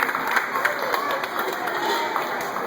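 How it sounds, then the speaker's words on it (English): Aquarium visitors at a seal show clap for the seals, a moderately loud patter of many hands with chatter and voices mixed in, continuing evenly throughout. "Let's give them a clap."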